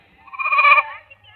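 A single goat bleats once, loud and close, a wavering nasal cry lasting under a second against a quiet background.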